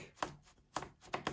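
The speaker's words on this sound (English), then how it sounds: "So you just undo the screws on this till you feel them going round and round. You can hear them click" Screws being undone on the underside of a ThinkPad X1 Carbon laptop give faint, sharp clicks, three or four spaced about half a second apart, close up and without talk.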